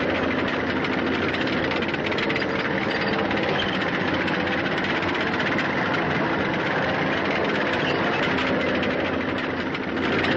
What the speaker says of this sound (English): Pershing tanks. Rumbling up to spearhead the action to come.